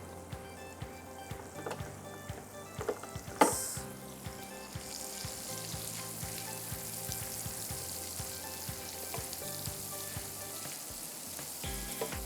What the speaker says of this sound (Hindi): जैसे ही मक्खन सिजल करे आप बादाम पहले भून लीजिए।